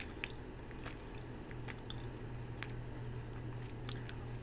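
Chocolate spoon chewed right against the microphone produces soft, wet squishing and chewing sounds with small clicks, steady and intimate, no talking.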